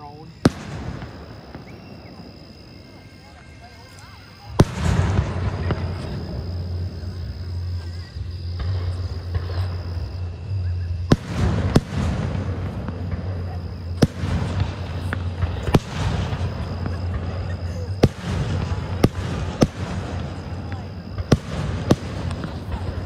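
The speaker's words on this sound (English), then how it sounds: "They should fire, up their biggest firework in the world." Fireworks at a public display in Bessemer City, North Carolina, go off in a series of sharp bangs and booming bursts, some near and loud, over a low rumbling crowd with people talking.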